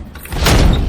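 Door at a chocolate factory pushed shut: a short rustling movement followed by a loud, heavy thud with a brief rumbling tail, heard up close.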